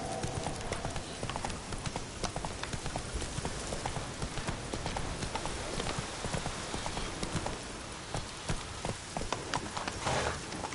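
Horse hooves clopping at a steady, quick gallop in The Witcher 3 video game, continuous and fairly loud rhythmic thuds through the whole stretch.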